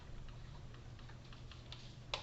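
Keys tapped on a calculator keypad, quiet scattered clicks with one sharper press near the end, over a steady low hum.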